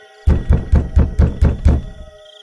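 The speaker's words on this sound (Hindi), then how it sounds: "चुड़ैल बड़ी देर तक हरिया के पड़ोसियों का दरवाजा खटखटाती है।" Someone knocking on a neighbour's door or gate in a village at night, seven firm, evenly spaced thuds in quick succession, close and loud, with no talking.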